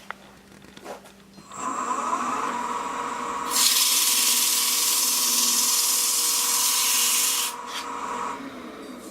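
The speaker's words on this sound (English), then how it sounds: "I want to start out talking about sanding the stabilized wood at the very beginning." Sander working on stabilized wood, starting with a low buzzing hum, then a loud harsh abrasive hiss held for about four seconds before easing back to the motor drone, close and alone.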